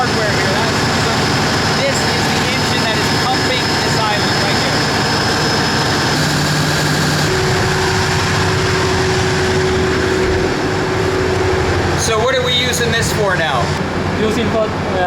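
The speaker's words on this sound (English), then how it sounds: "This is the engine that is pumping this island right here." A loud, steady engine drone from the generator machinery that powers a private island, a continuous low hum with mechanical whine filling the whole stretch, with a brief burst of clatter near the end.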